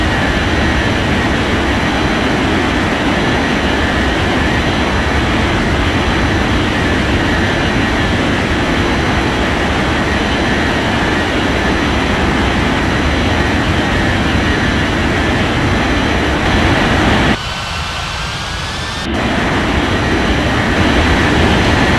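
A jet airliner in an air traffic control game rolls for takeoff on runway 16 right, giving a loud, steady broadband engine roar that drops away briefly before returning just as strongly.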